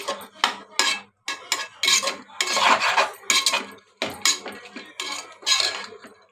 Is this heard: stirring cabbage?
yes